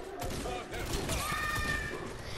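Rapid bursts of gunfire in the video game Fortnite crackle in quick succession amid game noise, with players chatting over the shots.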